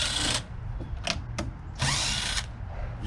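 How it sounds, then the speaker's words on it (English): Power drill whirring in short bursts as screws are backed out of a microwave's metal outer shell, three or four loud close spins separated by brief pauses, with a faint ratcheting click between them. "Just zipping all the screws out of the top of out of this shell."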